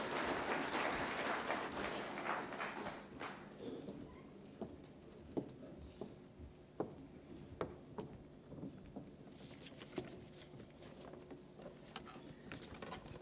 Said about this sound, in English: Loud applause, please, everyone from all sides.